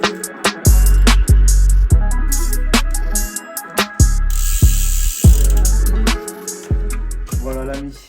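A torque wrench ratchets while tightening a crankset preload bolt on a gravel bike. Loud, close clicks come in steady repeated strokes, each followed by a short rattling ring.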